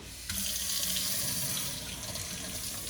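Cold tap water gushes into a colander of tomatoes being rinsed at a sink, a steady close splashing flow that starts abruptly and runs continuously.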